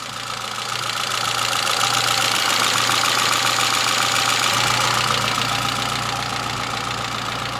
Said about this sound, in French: le moteur tourne toujours aussi bien, il tourne rond